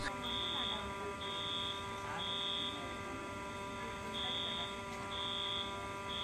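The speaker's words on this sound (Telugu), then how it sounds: "ఎలక్ట్రికల్ డిపార్ట్మెంట్ వాళ్ళు వచ్చి ఆ ఫైర్ అలారం సౌండ్ అయితే ఆపేశారు" An apartment community's fire alarm sounds as a faint, repeating electronic beep, pulsing in short regular bursts over a low steady hum.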